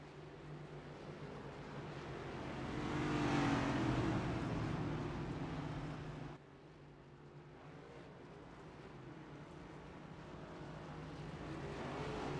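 Cup Series race cars roar at Bristol Motor Speedway as the field takes the green flag, a dense engine drone swelling to a peak, then dropping abruptly and building again, with no talk.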